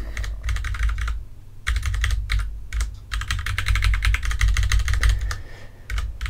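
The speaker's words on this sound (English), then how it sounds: "I apologise over the clicking" A computer keyboard clicks in rapid bursts of close, loud typing with brief pauses between them. Under the keys runs a steady low hum, and no one speaks.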